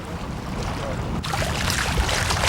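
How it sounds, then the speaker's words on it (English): Steady wind blowing over choppy Zambezi River water: a constant broadband rush with microphone buffeting that swells louder partway through, near and full, with no talking. "the wind's blowing straight at you like this"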